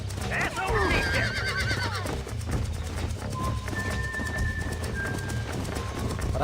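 A horse in the video game Red Dead Redemption whinnies and snorts while its hooves clip-clop steadily beneath, close and clear, with a player talking over the game sound.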